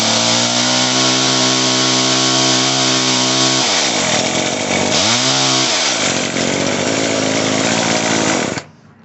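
An Echo CS-305 chainsaw engine runs steadily at a high idle, loud and close with a strong buzzing drone, dipping and swelling briefly partway through before cutting off abruptly near the end.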